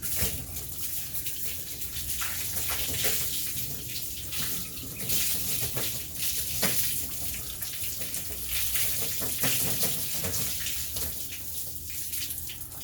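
Tap water runs steadily to rinse residue off an object that was coated with test products, a continuous close splashing stream with occasional uneven spatter and no talk.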